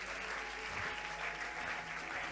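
Church congregation applauding, a steady wash of clapping from a crowd that sounds faint and distant and continues throughout.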